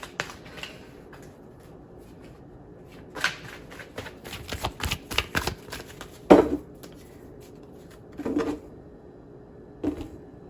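Tarot cards are shuffled and handled close by in scattered bursts of riffling and slapping, with quiet pauses between, ending in a few soft card taps.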